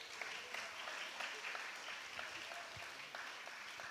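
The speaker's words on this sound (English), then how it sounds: "Let's give another big round of applause." Concert audience applause at an outdoor afternoon peace concert, a steady wash of many hands clapping, fairly faint and distant, continuous for a few seconds without talk.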